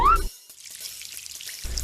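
Water poured, a brief soft splashing rush lasting about a second after a short tonal sound, fairly faint and heard alone.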